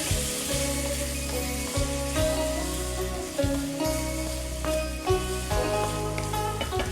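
Chilli vinegar sauce being stirred and fried in a pan for a Chinese chop suey dish, a steady close sizzle with soft irregular scraping strokes, accompanied by background music.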